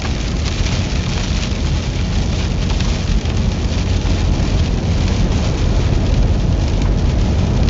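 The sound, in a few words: hail and rain during a Texas storm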